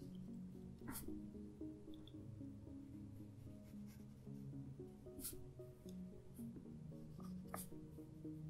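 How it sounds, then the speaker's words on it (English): Soft graphite of an 8B pencil sketching across sketchbook paper, a steady close scratching and scraping with occasional brief stroke accents, heard alone with no talking. "I actually picked up this pencil. It was recommended by Dina Norland. It's just an 8B pencil."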